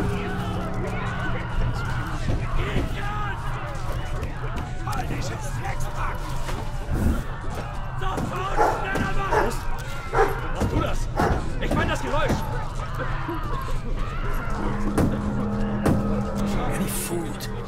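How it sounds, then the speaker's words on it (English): Dogs bark and yelp in the War Mongrels video game, with repeated barks and whimpers over a steady background of game sound and narration. "These dogs will sense me even if I'm disguised."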